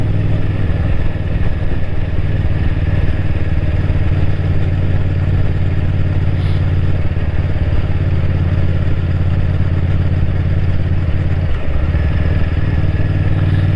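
A sporty motorcycle ridden on motorway and local roads, its engine a steady loud drone with continuous wind rush over the whole stretch, no speech.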